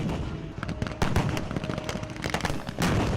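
Rapid bursts of gunfire at a World War II battle reenactment between Allied and German forces, sharp cracks and volleys repeating irregularly over a busy outdoor background, fairly close and loud.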